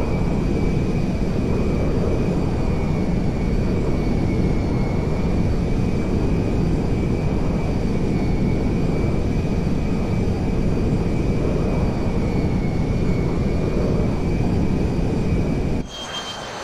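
An airplane flying in Grand Theft Auto 5 Online, a constant loud engine drone with a high steady whine held for many seconds before cutting off abruptly at the end.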